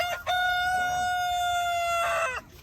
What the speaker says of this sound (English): Here's our rebel chickens.